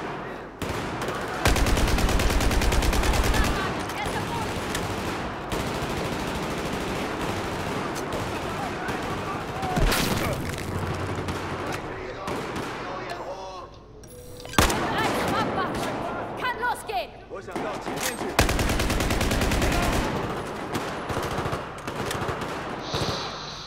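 Sustained heavy gunfire from the Battlefield 4 campaign's airport mission: loud, continuous machine-gun bursts and booming shots layered over a dense battle din, with a sharp blast near the middle and talk mixed in.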